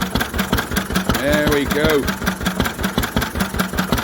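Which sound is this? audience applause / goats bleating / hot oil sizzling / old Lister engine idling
old Lister engine idling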